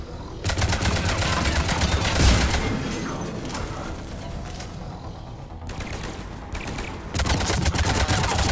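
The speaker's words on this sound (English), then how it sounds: "Oh man, they got a turret in behind us." Rapid mechanical turret gunfire in Mass Effect 3, dense sustained bursts with brief pauses, loud and close, mixed with clanking combat noise.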